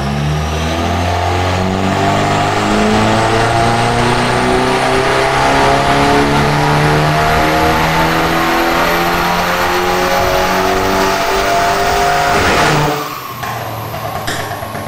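Mercedes-Benz E-Class W213 coupe exhaust before tuning, a loud, close engine revving and holding high revs with a throaty drone, then dropping back to idle near the end.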